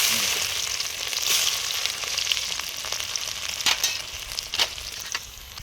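Garlic and ginger sizzle steadily in hot oil with mustard and cumin for a village-style fish curry, a continuous bright frying hiss with a few sharper pops and crackles, close by and without talk.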